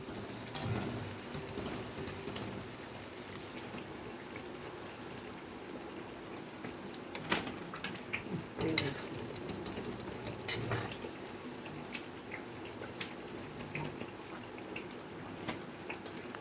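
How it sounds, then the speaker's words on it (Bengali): Palm fruit fritters (tal bora) frying in hot oil make a soft, continuous bubbling sizzle heard from a short distance, fairly quiet, with a few brief clinks and knocks partway through and no talking. "আর এই যে ভাজা হচ্ছে"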